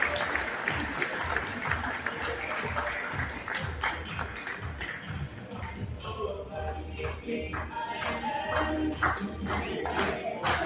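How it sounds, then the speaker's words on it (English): Applause from a crowd for the Fiji delegation at a skills competition event, continuous clapping and shuffling in a large room, fairly loud, with some faint voices mixed in. "Once again, ladies and gentlemen, a round of applause to Fiji."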